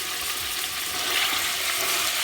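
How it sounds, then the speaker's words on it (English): Ground beef sizzling loudly in a hot pan, a dense, steady hiss of frying fat that swells slightly midway, with no voices. "Now we're adding in the ground beef right in"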